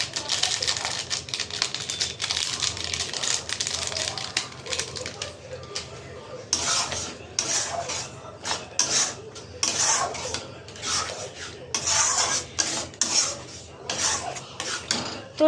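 Tarka with masala stirred in a cooking pan: rapid scraping and clinking of a utensil against metal, close and steady, with a voice talking over it.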